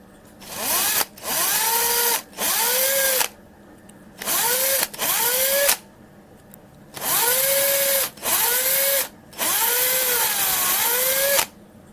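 A power drill whirs in repeated bursts, about eight runs of a second or so each, its pitch sagging and recovering under load, with short quiet gaps between.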